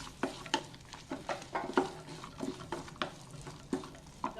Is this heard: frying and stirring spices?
yes